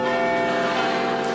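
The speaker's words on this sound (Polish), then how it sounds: "To jest Big Ben, proszę ciebie, to jest dzwon w tej wieży, to jest symbol Londynu." Big Ben in its London clock tower rings out loudly, one continuous deep metallic toll with rich, shimmering overtones sustaining throughout.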